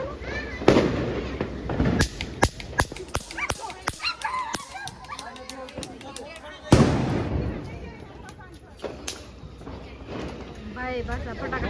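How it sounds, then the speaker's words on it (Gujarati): Diwali firecrackers burst in sharp, loud cracks, with a big blast in the middle and scattered smaller pops, while people talk and a dog barks nearby. "ભાઈ પાછા ફટાકડા લઈને આવ્યા"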